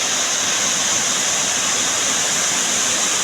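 Losno Falls waterfall pouring in a steady, loud, continuous rush of water heard close up, with no voices.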